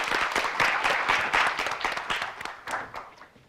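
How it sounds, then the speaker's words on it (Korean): A room of people claps to welcome a debater at a Korean high school debate competition, a moderate burst of applause that thins out near the end. "박수로 모시겠습니다."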